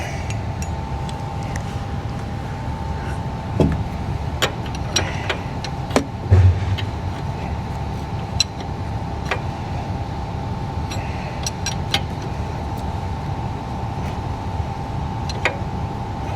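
ISX Cummins diesel engine idling with one injector removed and blocked off, a loud, steady idle rumble with a continuous hum and scattered metallic ticks, no talking.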